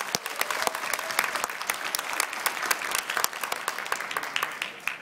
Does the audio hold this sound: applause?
yes